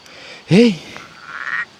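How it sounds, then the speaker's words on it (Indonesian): A single loud frog croak from a forest village area in Cangar, a short resonant call standing out over quiet background, followed by faint rustling noise. "Kodok ngapain ini"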